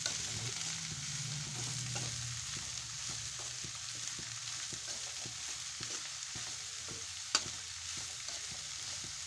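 Onion greens fry in oil with a constant soft sizzle and faint stirring scrapes, and a single sharp clink stands out near the end.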